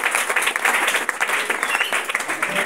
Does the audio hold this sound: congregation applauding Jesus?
yes